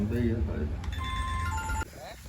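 A mobile phone ringtone plays briefly as an incoming call arrives, a short electronic melody cutting in under overlapping voices before stopping abruptly near the end.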